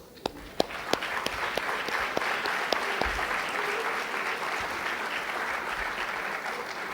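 At a panel discussion on the negotiation of the Torrijos-Carter treaties, a few sharp individual claps quickly swell into a full, even round of audience applause that carries on at moderate volume.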